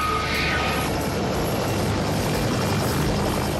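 Loud, steady helicopter rotor and engine noise, a constant close drone with no voices.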